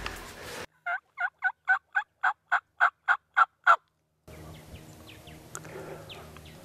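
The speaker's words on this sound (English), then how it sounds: "He gobbled that?" A wild turkey in a spring hunting field gobbles in a rapid series of about ten short, rattling bursts, fairly close and clear against a quiet background, followed by faint ambient noise.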